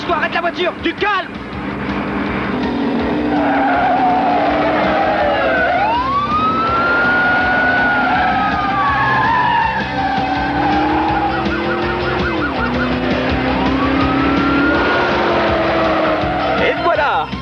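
A car drives hard and skids under a wailing siren whose pitch sweeps up and down, with engine roar and tire noise filling the scene and people talking urgently over it.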